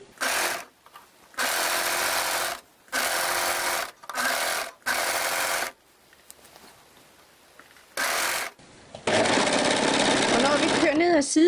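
A sewing machine runs a kimono sleeve side seam in several short, even bursts of motor hum with pauses, then a longer continuous stretch at the end, loud and close.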